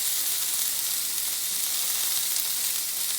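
Food fries in a hot pan while it finishes cooking after being flipped, giving a steady, bright, continuous sizzle with no pauses.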